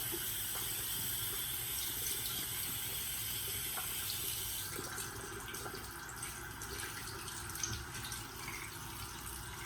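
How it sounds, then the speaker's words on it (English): Steady stream of water running from a tap, a continuous splashing hiss that shifts slightly midway as something is rinsed under it. "rinse it off with warm water"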